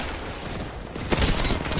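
Rapid gunfire from an Apex Legends fight with the player under fire, a dense, continuous burst of shots that grows louder and closer partway through and stays heavy to the end.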